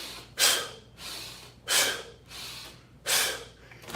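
Three forceful, sharp exhalations during a self-defense breathing drill at home, each a loud breathy burst followed by a softer inhale, evenly spaced about a second and a half apart.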